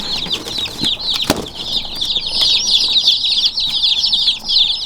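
Dense, continuous high-pitched peeping from a group of baby chicks close by, overlapping chirps with a few soft thumps and rustles beneath.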